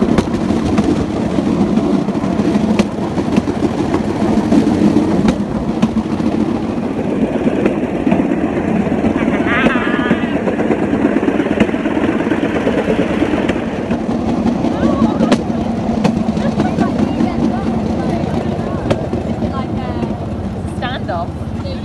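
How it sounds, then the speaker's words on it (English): A Cambodian bamboo train runs along the rails with a loud, continuous rumbling clatter and rattle that holds steady for about twenty seconds, heard close up. "Bamboo train time."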